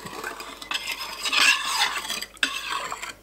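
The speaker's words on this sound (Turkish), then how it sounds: "şimdi ağır ağır sütün içerisine karıştırarak ilave edeceğim" Salep and sugar being stirred slowly into milk in a bowl for homemade ice cream, a close scraping, swirling sound with a couple of louder scrapes, heard alone without talk.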